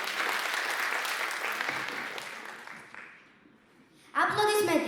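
Applause from a concert audience swells as a dense, steady wash of clapping, thins out near the end, and gives way to a voice speaking over a loudspeaker.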